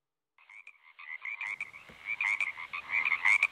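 Frogs croak in a dense chorus around a village, many overlapping calls building steadily louder and more crowded, rhythmic pulsing croaks close by with no voices.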